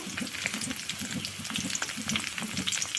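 Curry leaves, neem, mint and tulsi leaves fry in oil for a hair oil, giving a close, steady sizzle with crackling pops and occasional stirring, with no talk.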